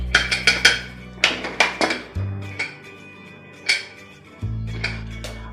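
A pressure cooker lid is opened after rice has cooked, giving sharp metallic clinks and clanks. A quick cluster of taps comes first, then scattered single knocks, under a low steady hum in the kitchen.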